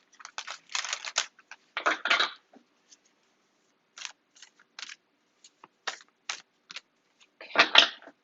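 Tarot cards shuffled and cut by hand in several quick riffling bursts, with short papery flicks and taps between them, close and fairly clear with no talk.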